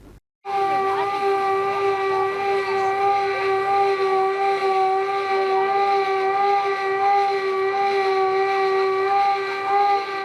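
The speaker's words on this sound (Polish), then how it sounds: "w całym kraju rozległ się dźwięk syreny" A loud, steady civil defense siren wail in Poland with strong, sustained harmonic tones holds at an even pitch throughout, after a brief quiet start.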